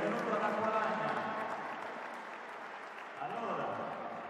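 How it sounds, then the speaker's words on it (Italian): An audience applauds to welcome Renzo Vecchiato at a live event in Acqualagna, continuous clapping beneath voices, dipping briefly then picking up again. "Ragazzi, su con questi applausi, perché io sono esigente, voglio gli applausi"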